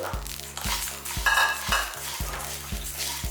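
Coriander seeds and whole spices dry-roasting in a pan, with steady scraping and stirring and a faint crackle, set against a regular thumping beat of background music.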